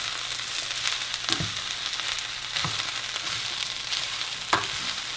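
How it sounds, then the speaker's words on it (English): Cabbage and onion mixture sautéing in a pan while cooking blackened-shrimp tostadas, giving a steady close sizzle and fry hiss with a few soft clinks of stirring scattered through. "while we're sauteing the cabbage and the onion mixture"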